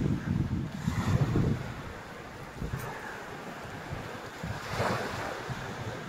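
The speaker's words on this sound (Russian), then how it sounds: "Вот еще напоследок праздничного морюшка." Sea waves surge and wash onto the beach at Vityazevo on a cold day, a broad rolling roar with gusts of wind buffeting the microphone and no voices.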